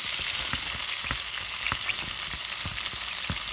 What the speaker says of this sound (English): Onions and peppers going in.